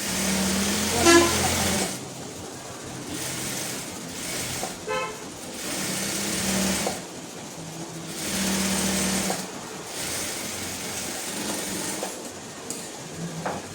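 Sewing machine stitching a seam while altering a fabric top, running in several sustained bursts separated by short pauses, moderately loud and close with no speech over it.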